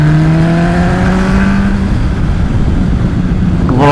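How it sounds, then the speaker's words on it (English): An MV Agusta Brutale 1090RR motorcycle engine roars steadily, its rising harmonic tones sweeping upward as it revs, then settling into a rough, rumbling idle before another sharp burst at the end. "here's the engine."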